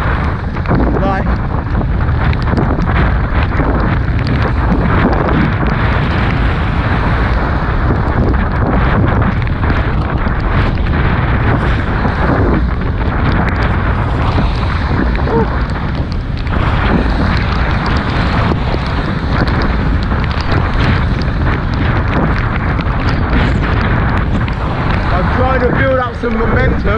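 Strong wind blasts against a rider, roaring as constant buffeting across the microphone for the whole stretch, loud and unbroken, with a voice faintly mixed beneath it.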